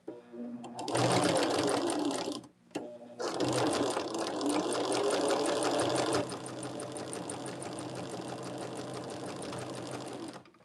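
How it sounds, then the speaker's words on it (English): A sewing machine runs continuously while stitching rows of a Jacob's Ladder quilt block together, a close, steady whirring hum with a brief pause near the start before resuming and settling into a slightly quieter, even drone. "then we'll stitch these two together"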